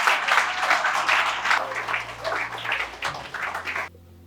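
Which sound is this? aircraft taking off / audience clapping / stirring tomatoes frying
audience clapping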